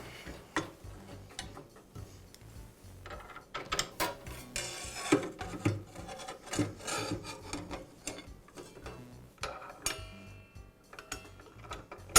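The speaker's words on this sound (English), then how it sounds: "And I'll finish up by reinstalling the blade." A DeWALT miter saw blade is refitted by hand, giving close metallic clicks, ratcheting turns and rubbing scrapes in irregular bursts, with no talking.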